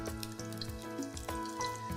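Sliced garlic fries gently in moderately warm oil in a pan, giving a soft, continuous crackle with small pops and faint clinks throughout, fairly quiet and steady.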